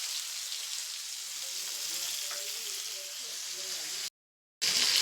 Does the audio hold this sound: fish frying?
yes